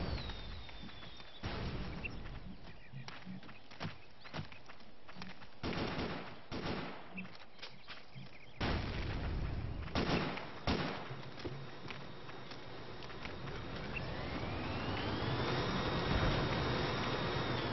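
Rapid bursts of gunfire from a wound-up gun in the blocky shooter game Ace of Spades, during a zombie match. Clusters of sharp shots are separated by short pauses, and a steady rising mechanical whine builds near the end.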